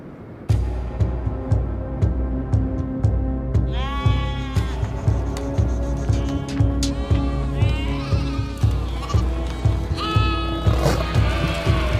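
Many sheep bleat repeatedly in a high-altitude snow leopard habitat with sparse grazing, overlapping calls rising and falling over a steady low rumble of the flock, close and loud throughout.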